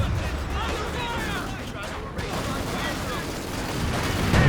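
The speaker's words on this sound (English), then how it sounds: "Some base howitzer fire coming in for ps3YES." Base howitzer artillery fire in Company of Heroes 2, a dense, continuous rumble of distant booms and blasts for the whole stretch, with speech-like murmur mixed in and a heavier burst at the end.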